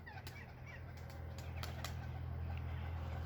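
Pigeon beating its wings on its first flight, a few quick, sharp flaps heard fairly close over a low, constant background hum.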